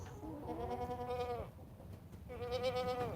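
Goats on a farm bleat in two drawn-out, wavering calls separated by a short pause, fairly faint over low background noise.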